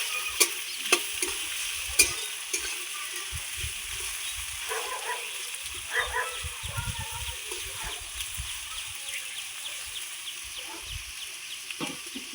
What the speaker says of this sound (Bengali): পেঁয়াজগুলো ভালো করে লাল লাল করে ভেজে নেব।